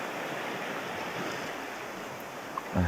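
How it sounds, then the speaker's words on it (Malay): Big ocean waves around a fishing kayak in Johor after the monsoon: a steady broadband wash of surf and wind noise fills the whole stretch, with a brief bump and a splash-like knock near the end. "Besar ombak tak boleh surf."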